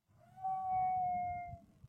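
A coyote's single long howl, a sustained wavering tone rising then fading over a low rumbling background, heard within a read-aloud children's story.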